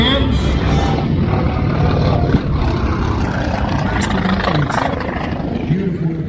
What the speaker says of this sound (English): The mighty bent wing Corsair.